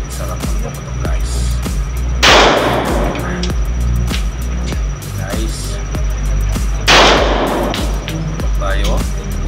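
Gunshots ring out at a shooting range in Pasay City, two sharp loud reports several seconds apart over steady background noise.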